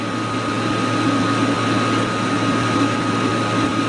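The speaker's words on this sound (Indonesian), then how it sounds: "Apa suara-suara AC ku kali ya?" A steady, broadband air conditioner hum picked up by a call microphone, a constant close whooshing drone with a faint low rumble and no breaks.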